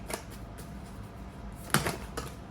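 A few sharp riffling bursts of tarot cards being shuffled, with quiet pauses between, close up and moderately loud.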